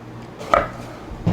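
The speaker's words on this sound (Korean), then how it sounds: "가지는 튀기실 때 제가 미리 이렇게 잘랐는데 칼집을 좀 내야 돼요." A kitchen knife cuts slits into eggplant pieces for frying, giving one close, crisp chop at about half a second and a softer knock near the end over quiet room tone.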